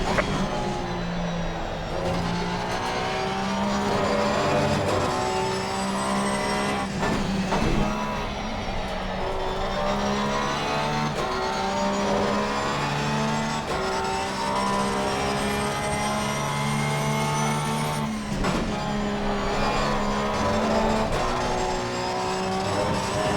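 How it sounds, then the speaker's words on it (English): Race car engines in Assetto Corsa Competizione at Zolder, a steady high drone of revving motors with gear shifts and shifting pitch as cars run near the pit lane during an online race, with no talk. "There's a car leaving the pit lane."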